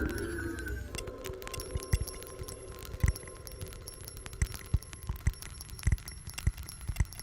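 A crackling Geiger machine feedback patch in a NoInputMixer iOS app spits irregular clicks and sharp ticks over a buzzy, noisy hum, like a Geiger counter, with scattered bright pops.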